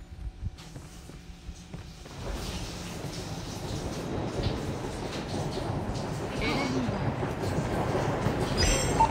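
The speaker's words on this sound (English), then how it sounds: "there's the train" A train rumbles past in a Call of Duty multiplayer match, a low, steady rolling roar that builds after a quieter start and grows louder toward the end, with faint game sounds around it.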